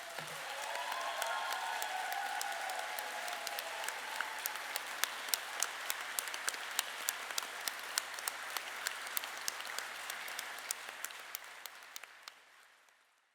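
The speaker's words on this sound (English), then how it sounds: "Just one huge round of applause for all our nominees and all our winners this year." Applause for nominees and winners at a memorial prize-giving ceremony, a steady, fairly distant round of clapping from a large audience that swells, holds and then fades out.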